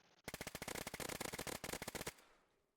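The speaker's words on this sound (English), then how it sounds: "I'm going to switch to the Vector and gun them down quickly" Rapid automatic bursts from a Vector submachine gun in DayZ, a loud close string of about twenty shots in quick succession with a brief gap midway, then a fading tail.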